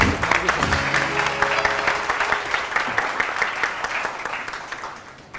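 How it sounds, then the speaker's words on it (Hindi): A studio audience at a TV morning show claps for a guest doctor, dense applause starting strong and gradually thinning as it fades out. "बहुत सारी तालियां डॉक्टर काशिफ के लिए।"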